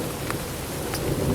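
Heavy rain pours during a thunderstorm over a high mountain point on the Continental Divide Trail, a dense steady wash of drops with low rumbling beneath, close and loud, with no voices.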